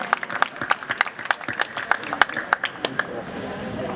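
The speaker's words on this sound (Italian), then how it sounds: "Applausi per Maria Grazia." Applause from an audience at the Premio Internazionale Città di Napoli award ceremony in Naples, a few scattered claps building into a steady, fairly close patter that thins out toward the end.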